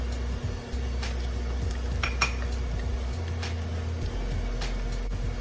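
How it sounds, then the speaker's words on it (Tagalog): Garlic is added to a pan of caramelized onions while making Filipino garlic fried rice, and close metallic scrapes and clinks of a utensil against the pan run over a low hum. "Next, I'm going to put now the garlic"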